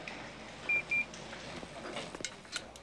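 Hospital pager in a medical drama, sounding as two short, high, clear electronic beeps in quick succession over quiet room noise, followed by some shuffling.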